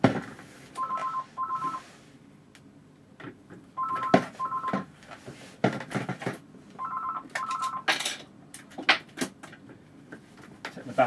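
An old telephone rings in repeated double bursts of electronic trilling, several cycles across the span, close by, with scattered handling knocks and clatter in between and no voices.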